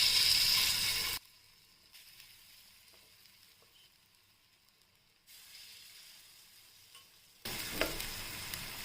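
Corn appe batter is dropped into a greased, preheated appe pan. A bright sizzle bursts at the start, drops to near quiet, then returns and swells again near the end.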